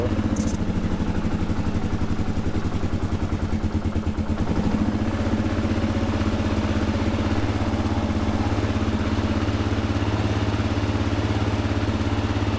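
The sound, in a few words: Kawasaki KLR650 motorcycle engine running on choke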